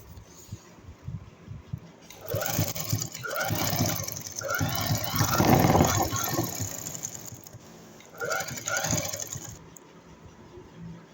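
A sewing machine stitching the folded-in hem of a salwar, with a whirring run at close range that pauses briefly and starts again. There is no talk.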